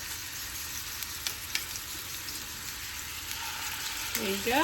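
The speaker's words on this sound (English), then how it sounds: "when it's very hot, you're gonna add, you're gonna hear that sizzle" Ground beef kofta kebabs sizzle in a very hot pan, a close, steady crackling fry with occasional pops, while a voice speaks briefly near the end.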